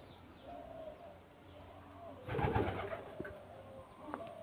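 A sale pigeon gives a close, burbling coo midway through, with fainter coos and light bird chatter around it and no talking.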